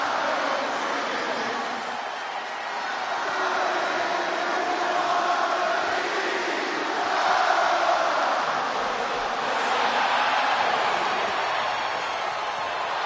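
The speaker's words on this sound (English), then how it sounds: "Just listen to this ovation for the Second City Saint." A wrestling video game crowd in WWE 2K26 roars in a sustained ovation for CM Punk before a hometown Chicago audience, a loud, dense wash that swells and ebbs without pause.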